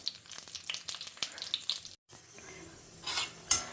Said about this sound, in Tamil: ஜீரகம் வந்து நல்லா பொரியற ஆரம்பிச்சுடுத்து நம்ம இப்போ அந்த வத்த மிளகாயை போட்டுக்கலாம்